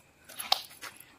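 A dog near a trash-strewn spot lets out a few faint, short whimpering yips in quick succession, heard briefly at a modest distance.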